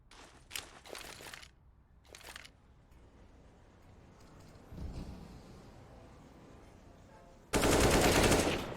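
Pistol fire crackles in a competitive Counter-Strike match on the Overpass map, with a few quick shots early, quieter game ambience through the middle and a loud burst of gunfire near the end.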